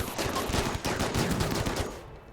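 Rapid, continuous turret gunfire in RimWorld: dense overlapping automatic shots that crackle without pause for about two seconds, then cut off abruptly.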